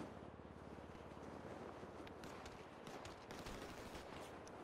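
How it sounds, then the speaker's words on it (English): Gunfire in GTA V, a fast rattling run of shots over a steady roar of wind and engine, with a few sharper cracks near the end, all fairly distant and low in level. "Ashton, why are you shooting that guy?"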